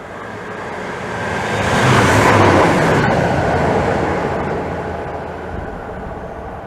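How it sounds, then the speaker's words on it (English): A turbo diesel passenger train passes through Maidenhead station, its roar building to a loud peak midway, then easing off as it moves away. "And now passing through is 1 Kilo 57 from Bedwin to London Paddington. Turbo."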